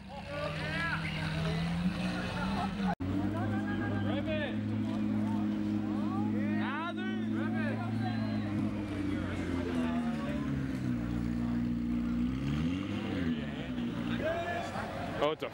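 A Fisker electric supercar glides past at a car meet with an eerie, whirring electric hum that rises and sweeps in pitch, heard under steady crowd chatter and nearby talking.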